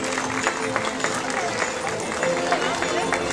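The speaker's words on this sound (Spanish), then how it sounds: "Un aplauso para él." At a 2018 Christmas tree celebration in Atoyac, a crowd applauds a rural development councillor with a sustained patter of clapping mixed with crowd chatter and faint background music.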